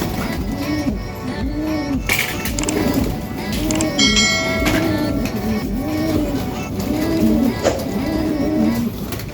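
Pet pigeons coo in rhythmic, repeated rolling calls after being let out to fly, mixed with wing flaps and outdoor background sound and occasional faint talk.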